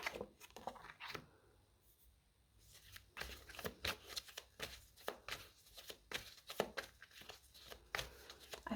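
Tarot cards being shuffled in quick bursts of soft riffling and flicking, close and quiet, with short pauses between runs.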